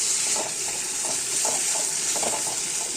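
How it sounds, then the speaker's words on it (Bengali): Masala spice paste for a bele fish curry fries in a pan with a steady, close sizzle, broken by soft, regular stirring strokes roughly every half second. "কিছুক্ষণ কষাতে যখন বোঝা যাবে যে মশলাটা ভাজা হয়ে যাচ্ছে"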